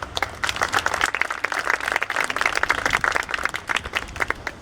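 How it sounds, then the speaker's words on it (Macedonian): An audience at a teachers' and students' award ceremony in Veles claps briskly, individual hand claps distinct within a lively, uneven burst of applause, close and fairly loud. "Еден аплауз."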